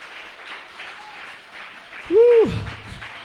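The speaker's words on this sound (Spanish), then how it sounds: "Póngase de pie y aplauda a Dios un momento en este lugar" A church congregation rises and applauds at a service on prophetic anointing, with sustained crowd clapping throughout and a loud voice calling out briefly in the middle over the applause.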